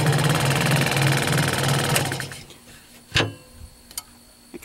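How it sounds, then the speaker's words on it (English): Fast, buzzing reciprocating chatter of a scroll saw cutting wood, running steadily for two seconds, then stopping, followed by a few scattered clicks and knocks. "I'm going to be cutting these out with a scroll saw"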